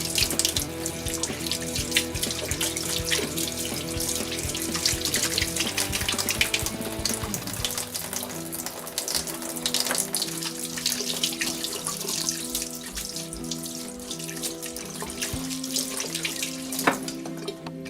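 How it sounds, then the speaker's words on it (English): Hot water pours steadily from a tap into a sink for handwashing, a continuous splashing rush with faint clinks, close by and with no voices. "So washing our hands is very important. Hot water."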